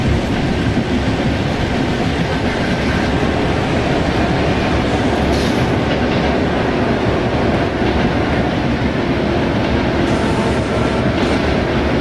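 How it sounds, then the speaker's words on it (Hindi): Simulated Indian railway trains, a Ghaziabad–Mathura EMU special running in parallel with the Jalandhar–New Delhi Intercity Express, give a steady, loud rumble and rhythmic wheel clatter that hold throughout without a break. "गाजियाबाद मथुरा EMU स्पेशल, जिसका पैरेलल एक्शन चल रहा है जलंधर NDLS इंटरसिटी एक्सप्रेस के साथ।"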